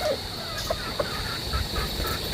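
Young laying hens in a flock on a farm, scattered soft clucks and short calls at moderate distance over a steady background hiss, with no talking.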